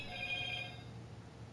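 A phone gives a text message alert, a short ringing chime near the start that fades into faint room noise, with no talking.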